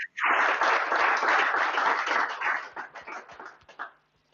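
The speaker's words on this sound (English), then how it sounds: "Let's give Cecilia another round of applause." Audience at an incubator demo day applauding, a loud burst of close crowd clapping that holds steady and then thins into scattered claps before fading out.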